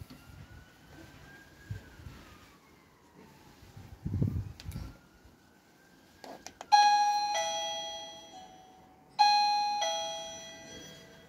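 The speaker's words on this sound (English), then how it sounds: "So that's the doorbell fitted." Two ding-dong chimes of an electronic doorbell, each ringing out and decaying, after some quiet handling noises.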